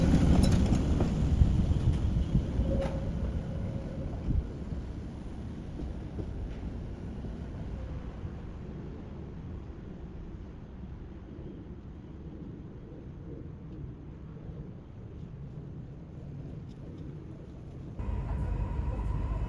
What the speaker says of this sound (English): worth a watch to see trams enter the portal